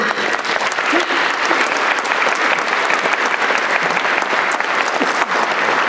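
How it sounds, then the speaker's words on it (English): Sustained audience applause at a convocation ceremony, a thick, even roar of many hands clapping for several seconds with faint voices buried beneath. "I also think we should give him a round of applause as well"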